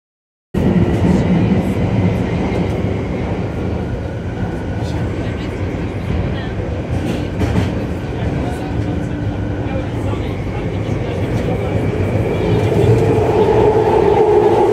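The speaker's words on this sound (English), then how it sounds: "noisy London Underground." Loud steady rumble and roar inside a moving London Underground train carriage, a dense continuous rattle that swells slightly toward the end, with no clear voices above it.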